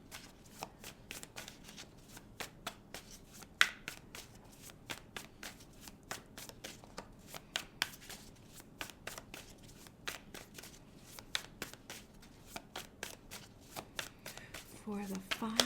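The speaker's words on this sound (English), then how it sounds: "So let's get some cards out for you guys." Tarot cards being shuffled by hand in a long run of quick, crisp riffling flicks, close and fairly quiet, with a brief voice near the end.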